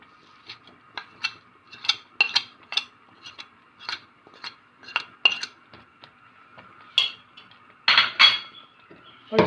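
A spoon scrapes and clinks against a pot as khoya is stirred into thickened rice kheer, a steady run of sharp metallic taps close by, with a louder flurry of clatter near the end.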